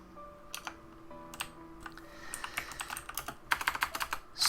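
Someone types on a computer keyboard at close range, with quick clustered keystrokes in uneven bursts that grow denser and louder toward the end, and no voices.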